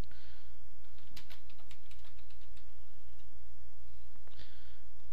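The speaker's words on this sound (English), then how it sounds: "you click on anywhere in the space and start typing whatever you want" Quick bursts of keystrokes clatter on a computer keyboard as text is entered in editing software on an Ubuntu desktop, a short cluster of close clicks followed by quiet and a few faint taps.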